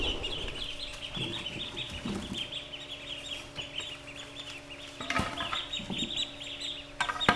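Seven ducks cluck and quack softly at close range, a steady busy chatter from a small flock with a low background hum.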